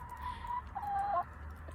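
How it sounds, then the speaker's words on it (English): A rooster gives a short, drawn-out cluck or call, fairly close and clear over a low background rumble, with no talking. "We got the rooster."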